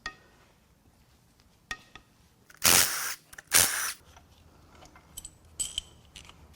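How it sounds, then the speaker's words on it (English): Connecting rod caps come off a worn 5.9L Cummins turbo diesel engine during teardown. A few light metallic clinks are followed by two loud bursts of ratcheting, rasping tool noise close by, then more scattered taps. "I'm actually going to unbolt the rod caps on cylinders 1 and 6."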